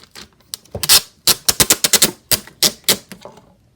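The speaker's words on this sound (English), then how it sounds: "So the very last step is to tape this box up." Packing tape is pulled from a roll and pressed across a cardboard gift box holding homemade slime, making a quick series of sharp, loud, close ripping bursts with short pauses between them.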